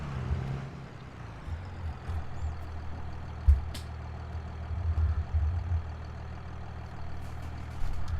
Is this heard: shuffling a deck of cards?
no